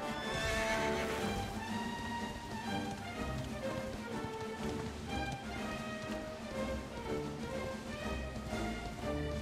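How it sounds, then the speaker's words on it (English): A horse in the video game Dragon Quest XI whinnies loudly at the start, then its hooves clip-clop in a steady rhythm over a layer of game music. "Give me a horse."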